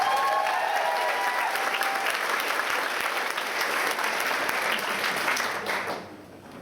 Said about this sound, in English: Round of applause for Kristie, guys.